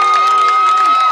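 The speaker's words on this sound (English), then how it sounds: "crowd getting fired up now" High school football crowd at Providence versus New Brockton cheering, loud sustained roar with whistles and shouts, a bright tonal band like a horn or whistle running throughout.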